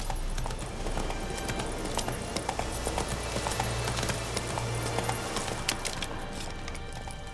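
Geralt's horse Roach gallops in The Witcher 3 video game, a steady run of clip-clop hoofbeats over a busy, constant bed of game music and ambience.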